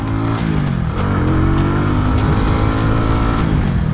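A SKYGO Magnus 200 motorcycle cruises at about 50 km/h, its engine droning loud and steady throughout, with the pitch dipping briefly and climbing again as the throttle shifts, mixed with continuous wind and road noise.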